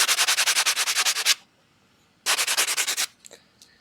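Finer abrasive is rubbed back and forth over a coin ring, giving two bursts of quick, evenly paced scratchy strokes, close and crisp, separated by a short quiet gap.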